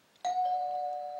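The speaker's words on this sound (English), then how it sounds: "The doorbell." A doorbell rings once in an electronic tone, sharp at the start and then ringing out steadily, in a quiet room with no talk.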